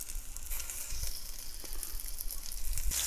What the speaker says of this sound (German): das Öl ist schön heiß und jetzt kommen unsere Bällchen langsam rein. Und die tun wir uns jetzt von allen Seiten erstmal ein bisschen anbraten